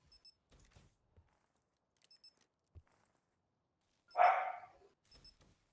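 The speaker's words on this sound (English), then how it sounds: "What's your dog's name, Muffin? Louie?" A dog gives a single short bark partway through, fairly close and loud against an otherwise quiet background with faint scattered clicks and beeps during a game session.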